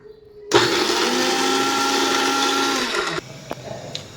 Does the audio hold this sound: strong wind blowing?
no